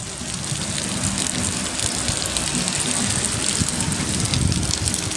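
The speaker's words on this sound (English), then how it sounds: "Yep, it's still raining out." Heavy rain pours steadily outdoors, a dense continuous hiss and patter drumming on surfaces with no pauses, close and fairly loud throughout.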